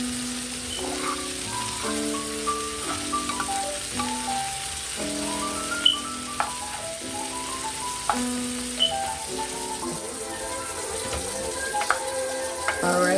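Broccoli and carrots sautéing in a pan with garlic butter, a steady close sizzle with occasional pops, heard under music with no talk.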